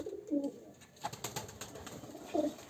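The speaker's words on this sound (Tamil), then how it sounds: "இப்போ நான் வந்து புறாங்களை வந்து கிட்டலேருந்து காட்டுறேன்" Pigeons coo in a few short, soft bursts near the start and again at the end, with faint background noise in between and no talk.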